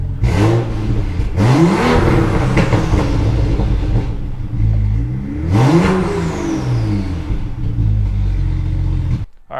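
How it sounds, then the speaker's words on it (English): A BMW 535i engine revs up several times while being checked for a boost leak, rising and falling in pitch with loud bursts, idling between revs and cutting off at the end. "I'm just gonna do a few revs."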